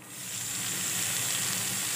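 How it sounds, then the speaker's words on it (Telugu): Tomatoes cook down in a pan for a lentil and fenugreek-leaf dal, giving a steady, even sizzle and gentle frying hiss that swells slightly at the start and then holds constant at close range. "ఇప్పుడు మనం టమాటాలని ఇలాగా మగ్గనిద్దాం."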